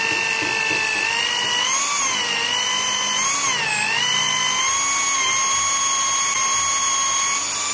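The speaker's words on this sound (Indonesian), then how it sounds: "Tapi ini kita coba dengan mata bor yang kenceng ya teman-teman" A high, sustained electric drill whine holds steady for several seconds as a fast bit bores into very hard wood, dipping slightly in pitch twice as it bears down under load.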